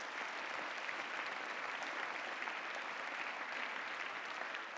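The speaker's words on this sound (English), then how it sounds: "Round of applause." Applause at a school fall sports assembly, a steady crowd clapping throughout, moderately distant and even in level.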